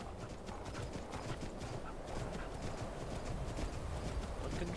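Horse hooves clip-clop in a steady, even trotting rhythm in the video game Skyrim, a continuous, moderately quiet run of footfalls with no talking over it.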